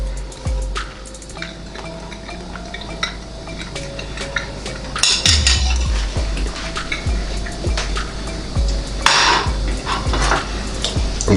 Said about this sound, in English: Can cut it with my fork, it's so tender.